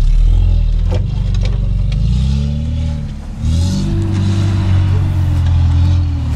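A stock UAZ off-roader at a competition pulls away with a loud, close engine that revs and climbs in pitch, dips briefly, then surges again, with clattering and scraping from the vehicle underneath the roar.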